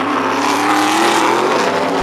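A Modified race car, number 50, roars steadily around an oval track at a 2012 season race, a loud, continuous engine drone close by with no break for the full stretch.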